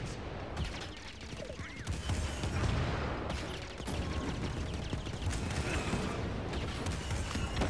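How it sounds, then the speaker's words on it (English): Cannons fire in a video game set at the Temple of Zeffo, a dense, rumbling barrage of blasts and crashing impacts that carries on throughout, loud and continuous with mechanical clanks mixed in. "So that fires the cannons."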